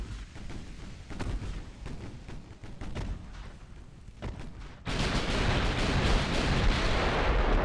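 Heavy naval guns firing in the video game Ultimate Admiral: Dreadnoughts, with battleship 13-inch and 14-inch shells: a run of loud booming blasts and impacts, then a sustained dense rumble of battle noise that swells toward the end.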